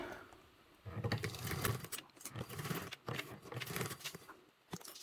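A domestic sewing machine stitching a crossbody bag, running in short uneven bursts with mechanical clatter and fabric rustle between stops, quiet and close.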